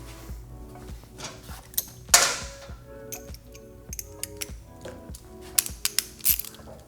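Socket ratchet on a 12mm fastener at the airbox of a 2018+ Kawasaki Ninja 400, giving close, irregular metallic clicks and rattles with a few sharper clanks, no talk.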